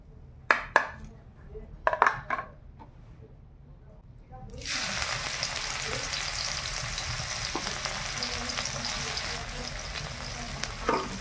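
Shelled pond snails, freshly gathered from a village pond, fry in a pan, starting with a few sharp clinks of a utensil before a loud steady sizzle that continues to the end.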